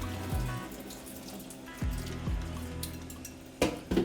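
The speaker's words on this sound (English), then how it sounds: "I'm pouring iced water" Iced water pours from a tap over cooked spinach in a sink, a steady running splash with gurgles and a few louder surges, close and alone.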